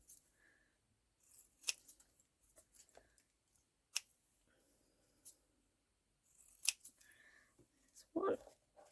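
Scissors snip around small paper word labels in a series of faint, sharp, scattered cuts with quiet gaps between them.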